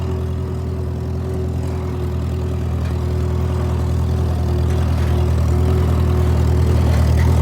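A tractor engine running steadily while raking on a farm, a loud low rumbling drone with an even hum that holds constant and slightly swells, with no talking.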